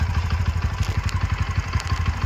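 A Bajaj Pulsar NS 125 motorcycle, low on engine oil, idles after starting with a loud, close, steady low thrumming pulse and a faint rattly clatter on top, heard alone without talking.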